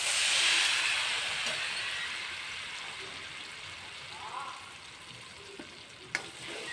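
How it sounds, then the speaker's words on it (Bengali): Lentil paste sizzles and hisses in hot oil in a wok, a steady frying crackle that is loudest at first and slowly softens, with occasional scraping stirs and a soft voice beneath. "ডাল বাটাটা আমি এখন তেলে নাড়াচাড়া করে নেব।"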